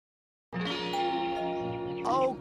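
A doorbell chime rings out suddenly after silence, ringing tones that hold and swell before fading, close and clear.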